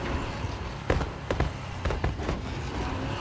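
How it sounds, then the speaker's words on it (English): A car in a video game pops and bangs while running over objects, several sharp irregular cracks and thumps standing out over a steady rumbling engine and game noise. "It sounds like the car's like popping and banging a little bit whenever you run over those things"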